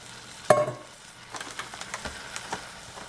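Tomatoes dropped into hot oil in a Dutch oven, a sharp splash and hiss followed by a run of soft, rhythmic stirring scrapes from a bamboo spoon over a gentle sizzle.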